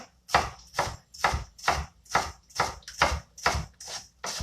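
A sharp knife dices onion on a cutting board in about ten steady, evenly spaced chops, each a crisp, close thud, loud and clear with no speech.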